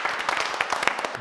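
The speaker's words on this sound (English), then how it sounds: "can we get a round of applause?" A brief, quiet patter of clapping hands from a small group on a studio football-versus-NFL fan debate show, ragged and short-lived.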